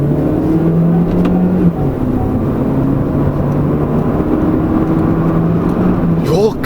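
An Opel Astra 1.4T turbo drives hard through a corner with traction control off, its engine a steady, close drone inside the cabin that shifts pitch mid-corner and again near the end.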